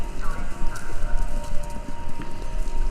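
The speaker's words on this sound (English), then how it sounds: "Sounds like horses. Horses running? A race?" Galloping horses in a race come through a radio in the game Kentucky Route Zero, a steady dense drumming of hooves with a low rumble, constant and moderately loud.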